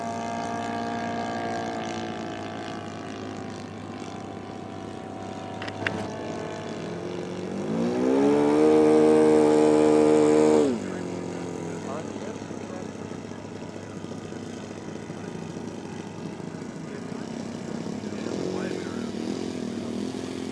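A Geebee Model Q scale model airplane at a Wenatchee scale flying event, its engine swelling loudly into a steady harmonic drone for a few seconds before fading back under outdoor ambience and quiet voices.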